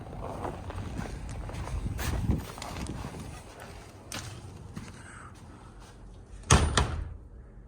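A shop door opens and closes at the entrance to a new office and warehouse showroom, with a sharp knock near the start and a louder thud near the end, set against a steady, busy room hum.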